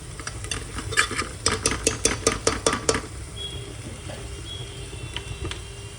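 Chickpeas and potatoes are stirred and sautéed in a pan, a spoon clattering against the metal in a quick run of scrapes and knocks over a low sizzle that carries on alone afterward.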